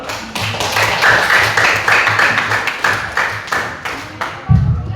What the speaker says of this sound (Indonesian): Tepuk tangan untuk Erik dulu.